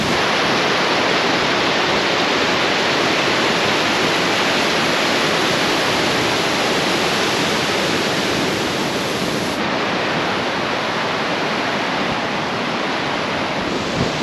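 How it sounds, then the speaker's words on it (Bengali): A glacier-fed river, the Karmaganga, rushes below in the Pin Valley of Spiti, making a loud, continuous broadband roar that stays steady throughout with no voices. "এই যে নদীটা এইভাবে নিচ দিয়ে বয়ে যাচ্ছে, বয়ে গিয়ে ওই যে দূরে পিন নদীতে মিলিত হয়েছে।"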